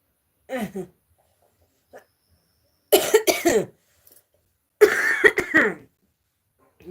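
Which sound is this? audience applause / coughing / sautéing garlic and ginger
coughing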